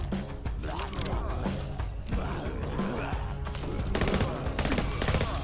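Rapid gunshots fired at zombies in the VR game Undead Development, a dense, continuous rattle of shots over game noise, loud and close throughout.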